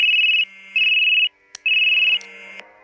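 An electronic phone ringtone plays in repeating bursts of a bright warbling tone, loud and close, with short gaps and a faint click between them.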